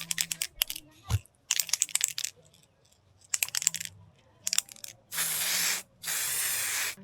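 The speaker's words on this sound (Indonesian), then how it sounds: "Jadi sebelum itu kita semprot dulu." Aerosol spray can hissing on a mountain trail before camping at Mt. Papandayan, heard first in short bursts amid rustling and crinkling, then in two longer loud hisses near the end.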